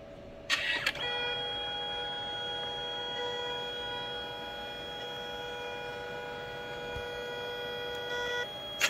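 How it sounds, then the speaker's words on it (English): A Canon SELPHY wireless photo printer prints one color layer at a time, giving a steady, faint, tonal mechanical whir that holds for several seconds between brief clicks at the start and end. "There we go, it's printing."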